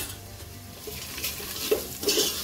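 A spoon stirs salt and red chili through chickpea pulao in a pot, giving a few soft scraping and clinking strokes with a faint sizzle, close by and with no talk.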